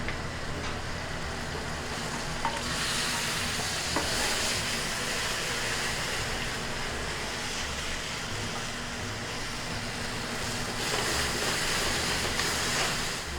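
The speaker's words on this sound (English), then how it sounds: "While our shrimp is cooking," Shrimp cooking in a pan with fresh brandy added give off a steady, dense sizzle that runs unbroken and fairly close throughout, with no one speaking.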